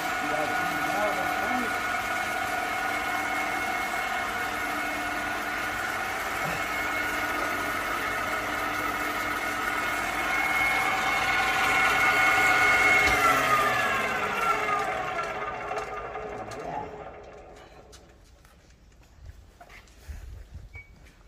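A large, roughly sixty-year-old German Schaerer lathe machining a Ford F350 rear differential housing hums steadily with mechanical tonal whine, under occasional voices, then winds down and fades toward the end.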